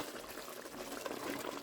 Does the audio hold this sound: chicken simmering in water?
yes